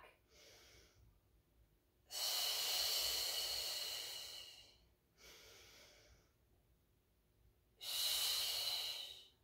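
Two long, strong breaths during a Pilates mat class exercise, each a loud hissing exhale or inhale lasting about three seconds, with fainter quieter breaths between them and no talking.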